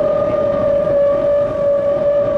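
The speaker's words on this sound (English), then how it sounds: "The siren's wail sends New York's inhabitants to shelter." A New York civil defense siren holds a steady, piercing wail during a daylight atom bomb drill, loud and unbroken from start to finish.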